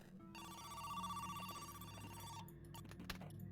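In a video game, a telephone rings steadily for about two seconds, a continuous trilling tone, and then gives way to clicks and quieter game sounds.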